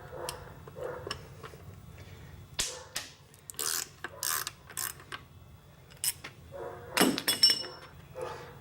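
Ratchet wrench loosening bolts on the engine block plate of a 4BT diesel, rapid ratcheting clicks in short bursts separated by pauses, close and moderately loud, with faint workshop background.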